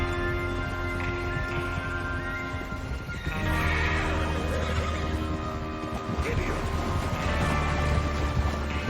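A horse whinnies over a busy Red Dead Redemption 2 game soundscape with hoofbeats and voices mixed in, loud and close throughout.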